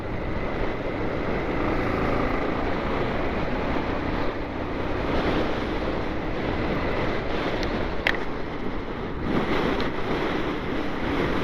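Waterfalls in Tamhini Ghat pour during heavy monsoon rain, a constant broad roaring rush of water mixed with wind buffeting, steady and dense throughout with no voices.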